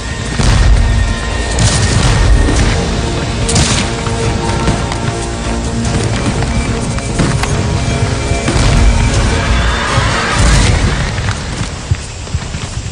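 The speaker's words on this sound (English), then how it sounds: "the crash of Union muskets breaks out on our right." Union musket volleys crash out in a Gettysburg battle scene, a loud, dense roar of overlapping gunfire with heavy booming bursts around 1, 3.5, 8.5 and 10.5 seconds over a continuous rumbling din.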